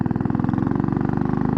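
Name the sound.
Royal Enfield motorcycle engine while riding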